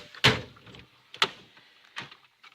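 A tool box drawer slides open and shut in a garage, three short scraping rolls with metal clunks, close and moderately loud, separated by brief quiet gaps.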